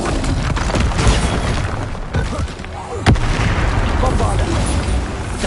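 A Confringo fire spell blasts in Hogwarts Legacy amid a busy magical duel, dense booming impacts and crackling bursts with a sharp hit near the middle, loud and chaotic, with a voice speaking over parts of it.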